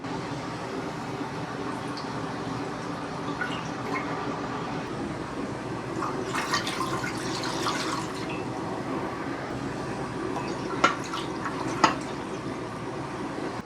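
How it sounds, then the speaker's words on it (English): Six cups of water poured into the reservoir of a Ninja Combi cooker, a steady liquid rush and splash filling the space with a few sharp drips and clinks near the end. "I'm going to throw 6 cups of water in there."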